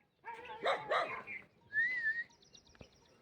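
A dog barks twice in quick succession, loud and fairly close, then a high, wavering whistle-like tone and a faint thin tone follow in a quiet outdoor setting.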